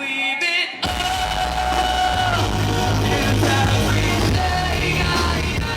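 Screamed vocals over a loud live band at a sold-out gig, a dense wall of sound with sustained yelled tones riding over heavy guitars and drums, close and loud throughout.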